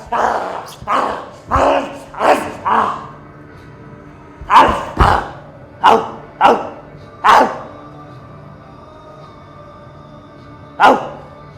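A dog barks aggressively in sharp bursts, several rapid barks in clusters with pauses between, loud and close, with a final bark after a longer gap.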